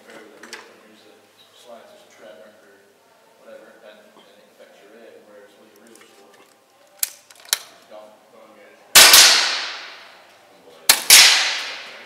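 Daystate Pulsar semi-bullpup air rifle firing Sovereign pellets at a paper target, two sharp loud cracks a couple of seconds apart following a man's speech and some lighter clicks.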